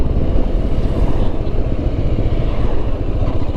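A motorcycle cruising steadily at about 100 km/h on an Indian highway, its dense, continuous engine and wind roar loud and unbroken throughout, with no talking.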